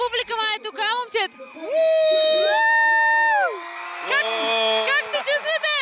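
Loud cheering and whooping from an audience at a Coca-Cola The Voice Happy Energy Tour 2017 concert in Burgas, with a presenter's voice rising into a sustained shout that sits over the crowd noise.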